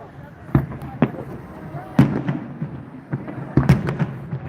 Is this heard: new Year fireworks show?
yes